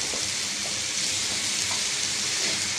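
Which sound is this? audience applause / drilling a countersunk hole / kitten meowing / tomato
tomato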